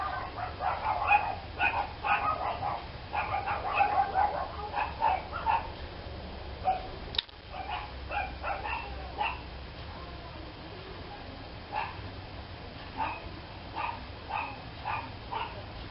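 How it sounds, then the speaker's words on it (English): Dogs bark repeatedly in rapid clusters at moderate distance, with a few yips among them, fading for a few seconds and then resuming in shorter bursts over a low background hum. "Another interruption, yet again by dogs."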